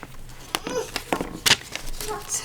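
Young children fuss and babble in a room at home, making scattered cries and squeals at a moderate distance behind nearby household sounds.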